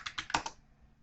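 A handful of quick keystrokes clatter on a computer keyboard, close and crisp, in a rapid burst that stops after about half a second.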